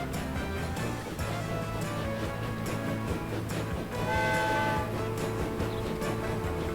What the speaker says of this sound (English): That's a very bizarre steam whistle sound.